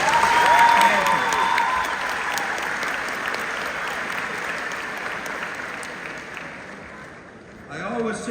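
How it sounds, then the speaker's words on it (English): A graduation audience applauds families, caregivers and grandparents, a steady wash of clapping that peaks early and then holds. A voice speaks over it near the end. "I think they deserve a big round of applause."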